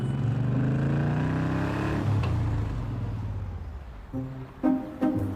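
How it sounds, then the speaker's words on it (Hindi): A motorbike engine runs loud and close, its pitch sliding downward as it settles, followed by a few short throttle blips. "बिल देखकर वो बाइक स्टार्ट करके रात वाले रेस्टोरेंट पहुंचा।"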